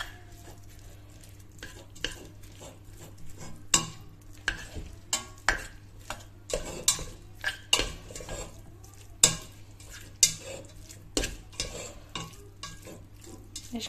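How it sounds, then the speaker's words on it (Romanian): A utensil stirs fried tomatoes and tomato sauce in a pan, giving repeated scraping knocks against the metal every second or so over a soft, steady sizzle, close up and with no talk. "ca să pot să amestec toate astea"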